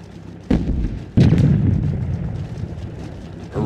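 Artillery in the game Sudden Strike 2 fires two heavy booming shots in quick succession, each a sharp blast trailing into a rumbling decay, with another burst starting right at the end.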